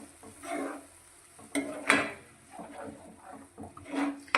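A spoon stirs fresh tomato puree into a vegetable curry in a pan. Quiet, irregular scrapes and soft clinks come in short bursts, with a low sizzle underneath.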